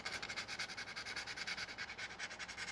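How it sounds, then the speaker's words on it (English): Sandpaper rubs over a hacksaw-blade lockpick to polish off its paint, producing a fast, even back-and-forth scratching rhythm, close and fairly quiet, with no voices. "we're just gonna take the sandpaper. We're just gonna polish it."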